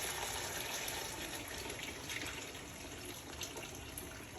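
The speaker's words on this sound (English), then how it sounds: "I'm going to take some water now, and I'm going to put in the pot." Water poured from a container into a pot holding a seared beef roast with bouillon, a soft, steady gushing splash heard close and without any talk.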